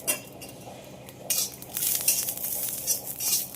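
Peeled garlic hitting a hot pan and starting to fry, first quiet, then a spoon scraping and clinking against the pan as a steady sizzle builds up close by.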